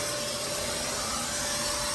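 Vacuum cleaner running steadily and loud, cleaning out the interior of a 1988 Ford Bronco II, a constant close whine with no pauses and no talking.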